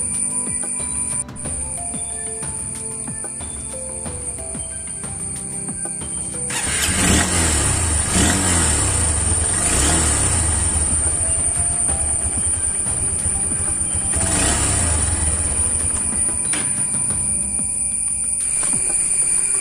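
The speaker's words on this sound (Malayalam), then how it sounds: "ഇനി നമുക്ക് സ്റ്റാർട്ട് ചെയ്ത് നോക്കാം." A Honda Hornet 160R motorcycle engine, freshly fitted with a new spark plug, turns over and catches, settling into a steady idle with a couple of throttle swells, close and unaccompanied by talk.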